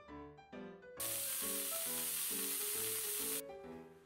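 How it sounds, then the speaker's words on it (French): Steam wand on an ECM manual espresso machine venting steam: a loud, steady hiss cuts in abruptly and stops after about two and a half seconds, under constant background music with no talk. "effectuez un contrôle visuel du bon passage de la vapeur par les trous de la buse"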